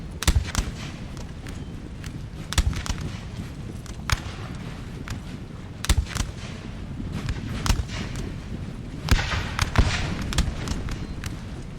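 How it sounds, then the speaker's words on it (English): Musket volleys crack out repeatedly in Napoleonic Total War 3, the sharp reports arriving in irregular bursts over a steady battlefield rumble, some near and loud, others distant. "Just making sure I'm still hearing the volleys, you know? Making sure I still hear the shooting."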